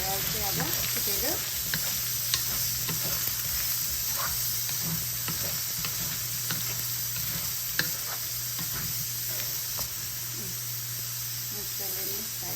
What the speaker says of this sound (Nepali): मजाले फ्राई भयो चाहिँ अब पोटेटो